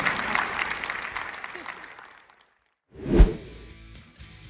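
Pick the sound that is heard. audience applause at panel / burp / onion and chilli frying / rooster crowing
audience applause at panel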